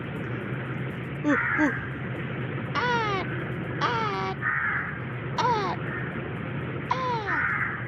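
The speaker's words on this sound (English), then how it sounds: "a crow calls out to no one the whole time" A crow caws several times in short harsh bursts, moderately near, over a low background rumble.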